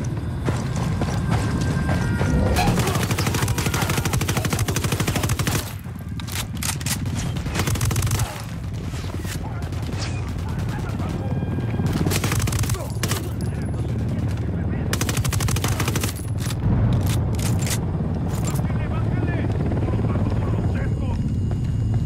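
Automatic and single gunfire in the video game Ghost Recon Wildlands, with loud, dense bursts of shots, a steady helicopter drone underneath, and a short pause before the firing resumes.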